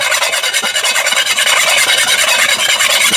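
A utensil scraping across a cast iron honey-pattern cookware surface, harsh and loud, with rapid repeated rasping strokes in a steady rhythm, close to the listener and with no talk.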